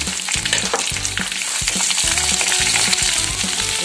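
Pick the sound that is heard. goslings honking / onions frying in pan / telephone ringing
onions frying in pan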